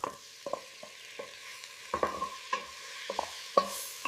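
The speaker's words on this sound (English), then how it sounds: "Now add minced meat and stir them well so you no go lump." Minced meat frying with onions in a pan while it is stirred, with a soft steady sizzle under about a dozen sharp scrapes and knocks of a spoon against the pan, close by and with no voices.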